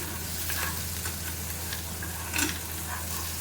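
Orange food colour stirred into rice in a pan, giving a soft steady scraping and sizzling texture with a slightly louder scrape near the end and no talking.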